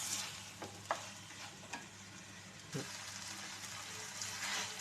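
Potatoes sauté in a pan for a capsicum potato gravy, giving a steady close sizzle broken by a few sharp stirring scrapes and clinks, with no talking.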